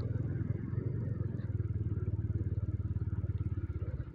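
An automatic scooter rides through flood water in a flooded village, its small engine a steady low putter with a fast, even pulse, close and continuous.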